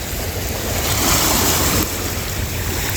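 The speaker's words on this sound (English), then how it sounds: "The tide is slowly moving in." Ocean waves washing onto the shore as the tide rises, a steady broad roar of surf with a slight swell in the middle, heard alone with some wind on the microphone.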